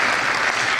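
Audience applause at a live literary magazine show during a Chicago festival, a dense, steady clapping that fills the whole short moment with no voices over it.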